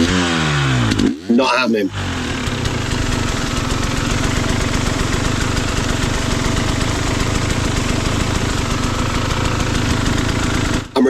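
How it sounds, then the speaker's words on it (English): A motorcycle stuck in a hole on an off-road trail in Wales gives a steady, loud engine drone with bursts of throttle, close to the rider, while someone speaks briefly. "I'm trying to hit it with a little bit of power to step the bike around"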